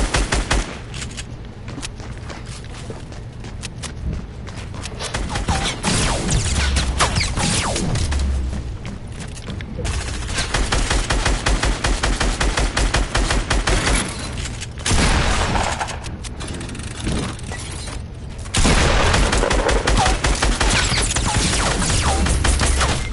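Continuous video game gunfire in a duos battle royale match, loud rapid automatic bursts that stay dense and nearly unbroken throughout, with brief pauses between volleys.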